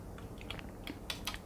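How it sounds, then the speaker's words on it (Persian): Someone types an IP address on a computer keyboard while configuring a MikroTik router: several quick, light key clicks in an uneven rhythm, faint and close, with no talking. "بعد از اون ادرسم رو تایپ میکنم"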